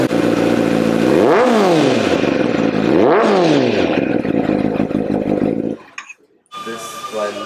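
A loud motorcycle engine revs hard twice, rising and falling in pitch, then idles briefly before cutting to a quieter rev.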